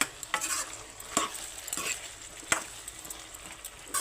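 A pan curry of potato pieces with brinjal and tomato being stirred and cooked, a spoon scraping in repeated strokes over a steady sizzle, close and fairly loud, no voices.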